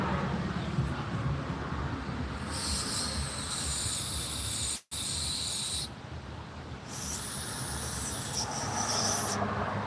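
Compressed air hissing from a spray can into a small engine carburetor to clear its holes, a long steady hiss with a brief break midway and bursts that rise and fall, close and fairly loud.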